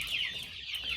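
Meat-bird chicks in a brooder cluck and peep continuously, a busy overlapping chorus of high chirps heard up close with no talking.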